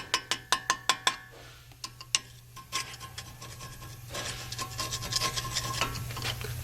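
A tool scrapes corrosion scale off a Land Rover hub bearing assembly: a run of sharp, regular rasping strokes, then a denser, continuous scratching and grinding, close up with no talk.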